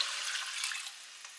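Water poured for a pickling brine of vinegar and water for carrots, a steady, soft splashing stream that runs without pause and eases slightly toward the end, with no talking.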